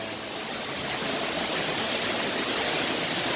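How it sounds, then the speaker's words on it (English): Steady broadband rush of a waterfall at the Jungle mini golf course by Islands of Adventure in Orlando, constant and close with no voices over it. "Awesome, nice waterfall."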